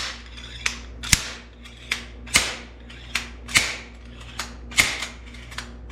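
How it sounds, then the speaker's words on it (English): A bearing puller is cranked to draw a worn suspension pivot bearing from a Santa Cruz Hightower mountain bike frame, giving a steady series of sharp metallic clicks and ratcheting snaps, close and evenly spaced, with no talk. "So I'm just gonna try to pull it out just like I did before."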